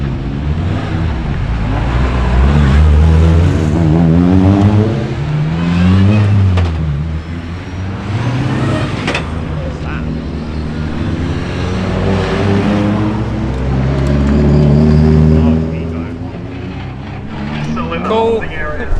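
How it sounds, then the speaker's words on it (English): A Honda NSX race car laps the circuit at a UK time attack event, its engine rising and falling through gear changes as it passes, with people talking nearby throughout. "I want to see this NSX go around."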